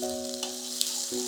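Grated ginger frying with onions in a pan while cooking white kurma, a steady close hiss with a tonal hum running underneath and one brief clatter partway through.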